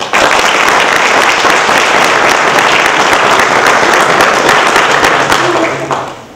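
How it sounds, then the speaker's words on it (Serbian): A theatre festival audience in Crna Bara gives a loud, sustained burst of applause, dense and even clapping from a full hall that tapers off in the final second. "Jedan aplauz za njih, možda."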